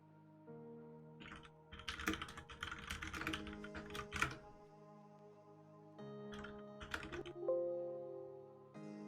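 Clattering keystrokes on a computer keyboard come in two bursts of quick, uneven taps, up close, over a steady electronic hum with tonal lines.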